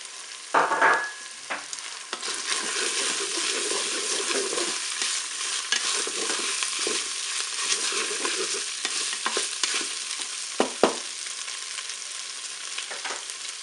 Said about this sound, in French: Je vais maintenant ajouter mes morceaux d'oignon.